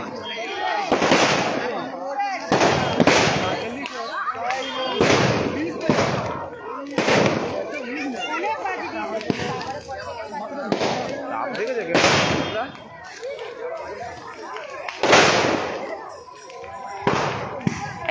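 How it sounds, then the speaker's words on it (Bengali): Firecrackers burst one after another at a night-before-Dol bonfire festival, sharp loud cracks and bangs in an irregular string with crowd noise and chanting underneath. "দেখছেন একের পর এক বাজি ফাটছে"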